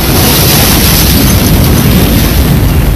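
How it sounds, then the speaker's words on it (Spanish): A test explosion against a window model, a loud, sustained roaring blast wave filling the whole moment, broadband and overwhelming with no pauses. "expusimos aquel modelo de ventana a una explosión para saber si se comportaba según se diseñó"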